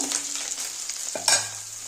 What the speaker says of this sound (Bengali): দেখো মাছটা ভাজা হয়ে গেছে, এবার আমি তুলে নেব।